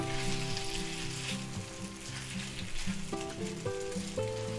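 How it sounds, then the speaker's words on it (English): Marinated pheasant and quail stir-frying in a pan give a loud, steady, dense sizzle with no break. A low hum with shifting tones runs underneath, and no one talks. "now we're going to quickly stir fry this"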